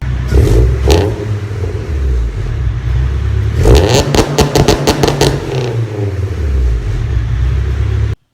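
A car engine rumbles at idle, then revs in several sharp bursts with a crackling exhaust before settling back to a deep, steady idle.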